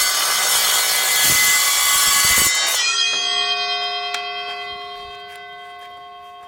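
A new blade on a battery-powered Evolution bandsaw cuts through 1x1x1/8 angle steel with a loud, harsh rasp for a few seconds, then breaks through, leaving the metal ringing with clear tones that fade away.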